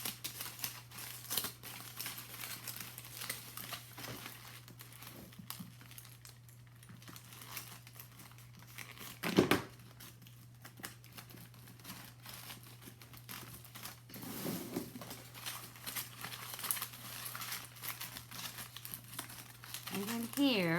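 Piece of foil crumpled by hand for a fairy apothecary craft, giving crinkly rustling and scrunching close by in uneven bursts throughout, with a few louder crackles and a steady low hum beneath.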